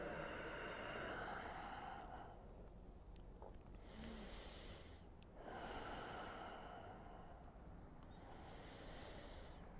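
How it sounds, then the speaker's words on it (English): Deep, slow breathing during a yoga neck stretch, with long audible inhales and exhales alternating in a steady rhythm. The breaths are close and soft, and no one speaks. "Couple rounds of full breath here."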